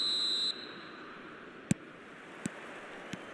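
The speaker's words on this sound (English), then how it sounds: "There's the whistle" A referee's whistle at kick-off in the eFootball mobile video game: one short, steady high blast at the start, then near-quiet broken by a few faint clicks.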